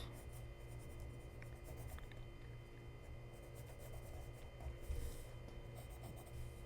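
Pencil drawing arms on a figure in a sketchbook, a soft continuous scratching of graphite on paper that runs steadily the whole time over a low background hum, close and quiet.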